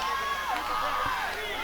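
A wrestling match crowd cheers and roars steadily throughout, with a commentator's voice talking over the noise.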